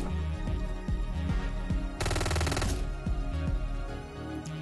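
Video game gunfire in Hotline Miami: rapid, loud, punchy shots crack in a steady burst over driving electronic music, with one denser, harsher volley in the middle.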